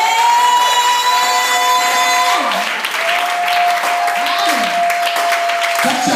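A church congregation claps and cheers continuously, a dense and loud wash of applause, with sustained keyboard tones ringing over it at the start.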